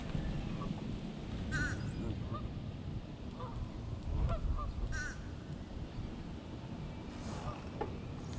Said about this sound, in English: This goose too fat. Can't go back to Canada anymore.